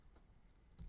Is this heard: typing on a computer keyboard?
yes